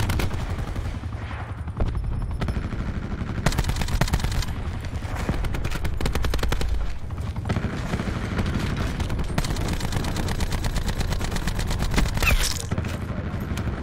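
Gunfire in the video game Call of Duty Black Ops 4: repeated bursts of rapid shots and sharp reports through the stretch, fairly loud, mixed with in-game clatter.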